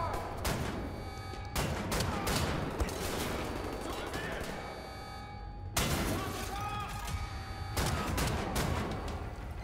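Shotgun blasts from the video game Wolfenstein: The New Order, heavy booming shots landing amid continuous battle noise, with a voice talking over the gunfire.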